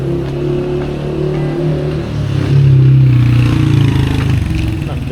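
Motorcycles ride past on a busy street in Adana, Turkey, with a steady mid-pitched engine drone that swells as one passes close for about a second, then eases back into the street noise.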